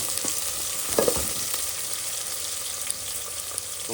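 Puffed rice (mandakki) roasting in a pan for oggarane gives a steady, even sizzle and crackle, broken by a few soft stirring scrapes, with no voices.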